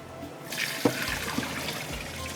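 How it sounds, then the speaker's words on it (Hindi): Water poured out from a cooking pot, a sudden rush of splashing liquid that starts abruptly and keeps draining with a few soft knocks, close and fairly quiet. "तो ये मैं पानी फेंक देती हूँ ताकि हम यखनी का ही इस्तेमाल करें।"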